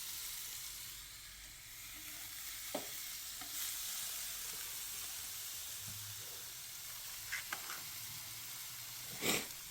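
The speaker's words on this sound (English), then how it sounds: "Ooh, I love that sound. Sizzle." Faint, steady sizzling hiss of crisped chicken fish in an air fryer, with a few soft clicks and taps scattered across the quiet background.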